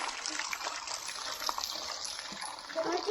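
Water flowing down from the hills on a quiet hillside spot near Dapoli, a steady broadband rush and trickle of running stream water, close and continuous throughout.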